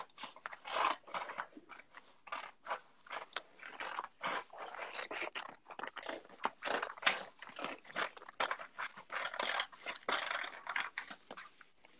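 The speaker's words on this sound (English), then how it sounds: "It is really pleasing noise hearing sharp scissors on paper, isn't it?" Sharp scissors cut through paper at close range in a quiet room, a run of crisp, irregular snipping and crunching strokes, some in quick bursts, others spaced apart.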